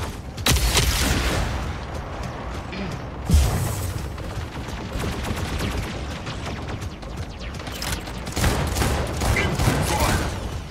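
Rapid bursts of gunfire from mechs in the Mech Arena video game, dense crackling volleys with a heavy boom near the start and a louder burst late on, continuous and close throughout.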